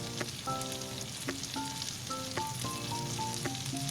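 Chopped small shallots frying in oil with ginger and garlic for a spicy anchovy fry, a steady close sizzle with light crackle throughout and a few faint tonal clinks, no talking.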